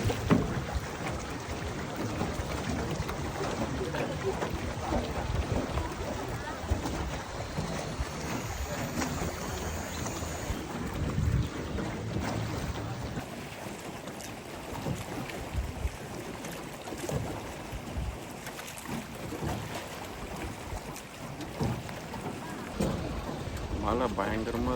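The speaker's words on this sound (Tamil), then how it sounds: "மழை பயங்கரமாக இருக்குங்க." Heavy rain pours steadily on a small rowboat moving along a river toward a cave among limestone rocks at Tam Coc in Ninh Binh, Vietnam, a dense continuous hiss and patter, with faint voices now and then beneath it.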